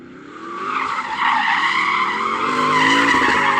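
Tyres on a Porsche Cayenne Turbo GT, a four-wheel-drive SUV, squeal in a loud, sustained skid while it spins donuts, the screech holding steady and rising slightly over about three and a half seconds.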